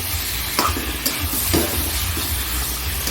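Chicken frying in spice masala in a pan, a loud continuous sizzle with a few sharp scraping stirs of a spoon, close up and with no talk.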